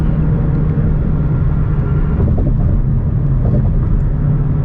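A stock Shelby GT350 pulls hard through a third-gear roll, its engine roaring loud and steady with a deep rumble heard from inside the car, no voices over it.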